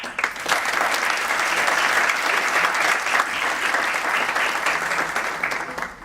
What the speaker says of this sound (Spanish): Recibamos con un fuerte aplauso al señor Felipe Hernández